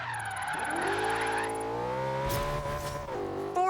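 Tyres skid and squeal as a car drifts in Forza Horizon 3, with a steady engine drone running under the loud, continuous squeal, which breaks up briefly near the end.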